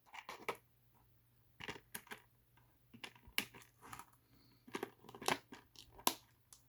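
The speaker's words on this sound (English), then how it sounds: "I'm going to go ahead and snip these ties." Ties on Transformers Kingdom Autobot Tracks toy packaging are snipped with a series of quiet, sharp clicks and crinkles, irregularly spaced with short pauses between cuts and no talking.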